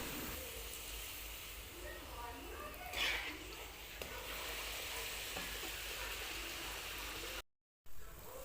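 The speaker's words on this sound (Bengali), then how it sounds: "তেল গরম হয়ে গেছে, একে একে লুচি ভেজে নিচ্ছি" Luchi, small flour puris, deep-frying in hot oil give a steady bubbling sizzle that runs the whole time, with a brief brighter hiss near the middle and a short dropout near the end.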